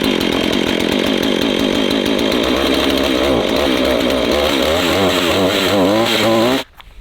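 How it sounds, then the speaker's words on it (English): A chainsaw runs loud and close, its engine revving up and down continuously before abruptly stopping at the end. "Up the hill we go with the chainsaw. That favorite sound all of us guys love."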